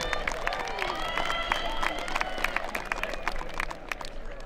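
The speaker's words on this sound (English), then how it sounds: "Ladies and gentlemen, one more round of applause for oil and gas students." An audience at a 2022 career and technical school graduation ceremony applauds, dense clapping from a large crowd with some murmuring voices mixed in, sustained throughout.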